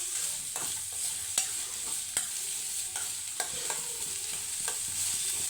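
Oil sizzling steadily in a pan while a paneer curry is cooked hotel style, with a constant hiss broken by occasional sharp scrapes and clinks of a spoon stirring.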